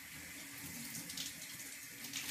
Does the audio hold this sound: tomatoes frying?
no